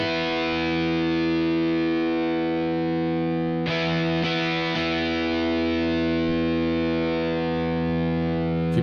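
Electric guitar played through a bigger distortion pedal in the Bias FX app for a solo, a loud, sustained, heavily saturated tone with dense harmonics, ringing steadily with a brief change in attack midway.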